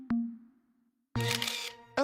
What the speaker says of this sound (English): When the shutter button is pressed